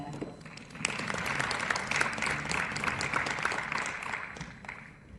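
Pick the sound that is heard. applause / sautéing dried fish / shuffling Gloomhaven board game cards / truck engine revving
applause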